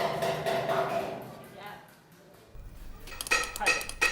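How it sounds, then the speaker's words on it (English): Metallic clinks and taps ring out in irregular bursts as silversmiths strike silver with small tools in a Bai workshop in Dali, with a brief quieter gap between them. "Those are the silversmiths making products right there."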